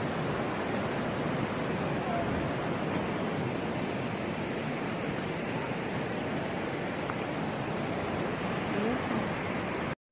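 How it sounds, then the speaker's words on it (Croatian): Water flows into a waterfall at Plitvice Lakes, a steady broad rushing roar filling the scene at constant loudness before cutting off abruptly at the end. "ovdje teče voda ravno u slap"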